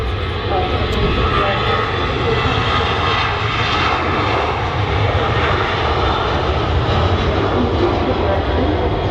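Aircraft on the runway at Manchester Airport give a loud, continuous engine roar that fills the whole stretch, with a voice talking underneath.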